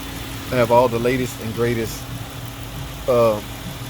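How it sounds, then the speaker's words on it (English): A 2011 Chrysler car engine idles with a low, steady rumble, while someone talks over it in short phrases. "I have the car running."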